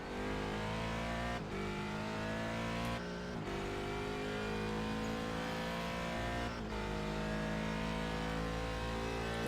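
A race car engine at Sebring in a sim racing game holds a loud, sustained high-revving drone, with a few brief dips at gear changes or braking and no talk.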